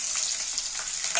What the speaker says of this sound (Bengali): এটা ভাজা হয়ে গেছে রসুন আর কাঁচা লঙ্কা